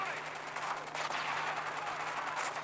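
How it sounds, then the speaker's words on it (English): Rapid, continuous automatic gunfire from a Call of Duty online match during a game night, dense and steady throughout with no pauses, fairly loud and unbroken by talk. "Oh, somebody's shooting."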